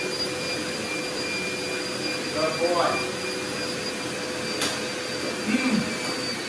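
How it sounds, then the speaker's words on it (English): A vacuum cleaner drones at a constant pitch throughout, and a person speaks briefly over the steady motor whine. "Now it's appropriate time for me to vacuum."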